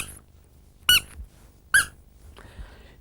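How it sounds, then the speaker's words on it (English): Two sharp, bright squeaks from a small squeaker toy concealed in a hand, spaced under a second apart, followed by a softer faint squeak, in a quiet indoor setting. "There are 101 things to do with a squeaker if you just hide it in your hand, like that."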